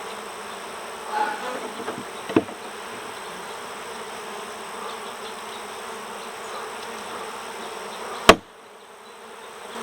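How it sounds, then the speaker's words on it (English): Honeybees from a queenless cutout colony buzz continuously after being shaken out of their frames, a dense humming swarm close by, with a sharp knock near the end. "Obviously we got bees flying around here looking for where the heck did their hive go."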